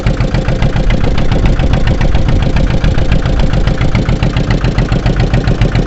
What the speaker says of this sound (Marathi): ते बोट चालवत आहेत